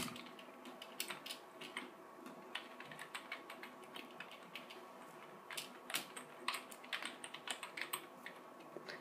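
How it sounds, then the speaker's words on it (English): Rapid clicking of a computer keyboard as a name is typed, close and quiet, with bursts of keystrokes and brief pauses throughout. "Just type your name."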